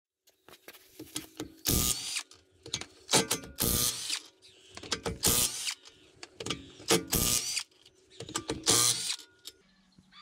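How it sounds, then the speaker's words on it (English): A cordless impact wrench on a 2 amp hour battery hammers at a bolt on a BMW E87 in repeated short, loud bursts of rattling impacts, separated by brief pauses, close up. "Get to use my new cordless impact today"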